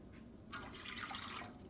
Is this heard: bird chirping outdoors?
no